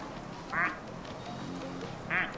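Two short, bright quacks from a plastic toy duck in the video game Placid Plastic Duck Simulator, about a second and a half apart, over a steady low background hum.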